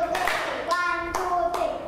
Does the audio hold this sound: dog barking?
no